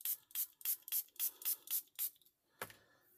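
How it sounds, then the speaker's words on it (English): Eight quick bursts from a small hand-held mini mister spraying water onto paint in an art journal, evenly spaced and close, followed by a pause and one short knock. "And we're going to spray all that paint on the..."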